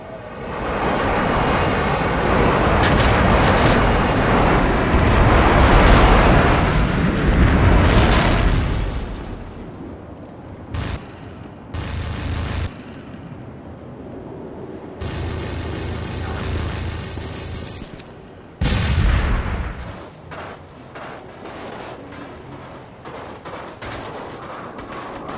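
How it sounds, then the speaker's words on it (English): Airstrike explosions in the Wii version of Modern Warfare 3 rumble as a long, loud run of heavy blasts and gunfire for the first several seconds. Sharp separate bangs and bursts follow, then quieter game noise. "Friendly airstrike on the way."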